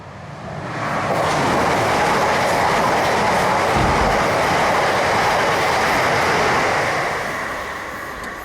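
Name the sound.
train passing on railway tracks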